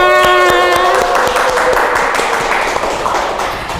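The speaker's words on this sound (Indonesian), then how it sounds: "Tepuk tangan semuanya" Podcast studio audience clapping to welcome a guest counselor, a loud burst of claps over a fading musical sting that tapers off toward the end, with no talk.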